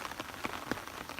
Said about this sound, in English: here comes the rain we were promised, beating down on my little lean-to